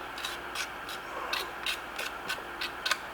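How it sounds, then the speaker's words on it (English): Steel trowel scraping Venetian plaster in a modern concrete-look finish across a surface, a series of soft, regular rasping strokes, close and fairly quiet, with no talking. "trowel that on a little tighter"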